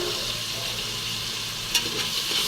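Tomatoes and coriander sautéing in a pan for beef soup, a continuous close sizzle with faint stirring scrapes, no talking.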